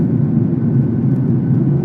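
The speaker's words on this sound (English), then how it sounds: "We just lifted off now." Airplane engines roar steadily as the aircraft lifts off from the airport, a loud continuous low rumble with no talk over it.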